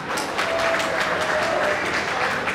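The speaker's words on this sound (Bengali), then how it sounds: "হাততালি হবে একবার।" An indoor audience at a dance school stage event breaks into applause, a dense, even patter of many hands that carries steadily through the whole moment.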